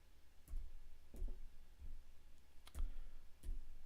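Mouse clicks on a computer running a Raspberry Pi Python program, clicking run and then stop: five sharp separate clicks spaced unevenly over a low steady background hum.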